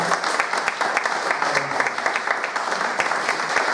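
An audience claps for the musicians with steady, dense applause that holds at an even, fairly loud level from start to finish.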